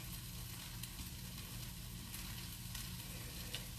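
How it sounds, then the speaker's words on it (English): Flour frying in a pan as the base for jalapeno cheddar soup gives a steady, soft sizzle that holds evenly throughout, close by and with no voices. "It's making noise, so I'm guessing the flour's getting cooked."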